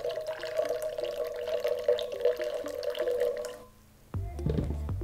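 Water pours in a steady stream into a Fellow Stagg double-wall glass carafe holding AeroPress coffee concentrate, a ringing, rising trickle that cuts off abruptly and is followed by a brief low clunk.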